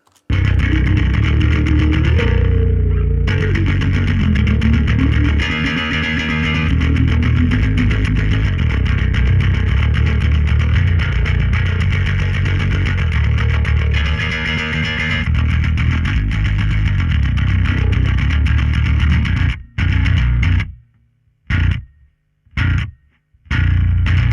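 A thick, heavily processed electric bass guitar with low mids cut by EQ plays a sustained, distorted riff for a long stretch, then breaks into a few short stabs separated by silence.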